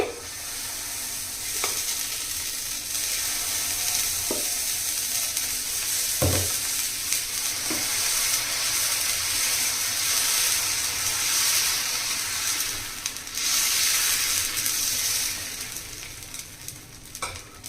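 Dosa batter sizzles loudly and steadily on a hot pan, a continuous bright hiss lasting throughout, with a few soft knocks and scrapes scattered through it and no one speaking.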